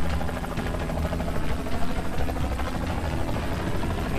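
A helicopter in the Renegade Ops video game flies with a steady, loud rotor thrum and engine drone that carries on without a break.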